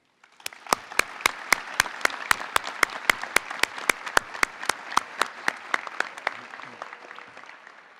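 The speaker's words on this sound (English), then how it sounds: "I'd like to give a quick round of applause to the Lubbock Police Academy staff" An audience at a police academy graduation ceremony claps for the academy staff in a sparse, evenly spaced round of applause, one sharp clap standing out loudly in a regular rhythm from start to finish.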